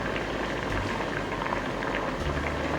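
Pre-cooked corn kernels tipped into a simmering pot of ukwa breadfruit porridge, a continuous close bubbling and pattering like rain with a soft thump as the kernels land.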